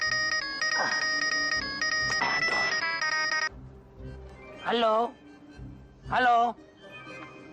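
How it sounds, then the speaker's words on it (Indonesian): A telephone ringtone plays as a bright, repeating electronic melody for a few seconds, then stops. Brief exclamations and short wavering vocal sounds follow in a quiet indoor room. "siapa lagi yang telepon nih?"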